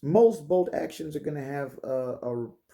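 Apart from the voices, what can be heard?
No everyday noises stand out.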